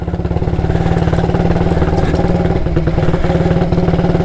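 A 1938 AJS Model 22 250cc motorcycle engine runs with a steady, rapid low thump and mechanical clatter, loud and close throughout, with no voices.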